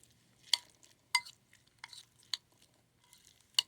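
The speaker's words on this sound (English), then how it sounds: "Stir it up real good." Potato salad being stirred in a bowl: a handful of sharp, close scraping clinks of a utensil at irregular intervals with soft mixing between, quiet and without talking.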